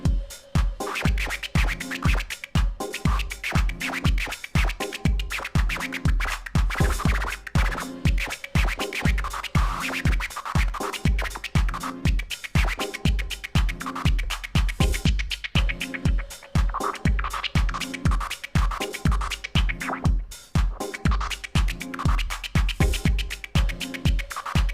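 A DJ scratches a record over a steady beat, working the filter, with rapid rhythmic scratches riding a punchy looped drum pattern, loud and continuous with no talking.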